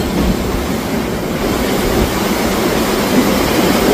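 Heavy rushing water roars steadily below the Farakka Barrage as the 13125 Sairang Express crosses, a dense, continuous wash of noise with a low rumble, loud and close throughout.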